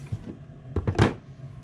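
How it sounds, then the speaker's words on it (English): A small makeup drawer is pushed shut: a few soft clicks and knocks, then a quick sliding thump, close and quiet. "So I'm gonna stick that in the drawer."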